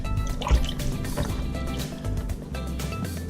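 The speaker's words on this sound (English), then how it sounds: "So we're going to put 4 cups of broth." Broth pours into a pot for teriyaki chicken, a close, gurgling liquid stream with small splashes and drips continuing through the clip.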